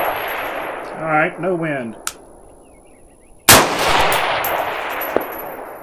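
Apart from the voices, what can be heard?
competition rifle shots at 12 by 12-inch target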